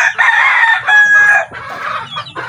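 A purebred red junglefowl rooster, kept as a fighting cock, crows and clucks up close. The calls come as short, loud bursts with brief pauses between them, and no talk is heard.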